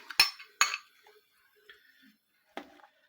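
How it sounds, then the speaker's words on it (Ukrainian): Canned food clinks and tumbles into a saucepan of homemade soup, with two sharp metallic knocks up front, light scraping and small taps through the middle and a last clatter near the end, close by and with no talking. "Висипали їх, перемішали з юшечкою от все, що є там. І відправляємось в каструльку."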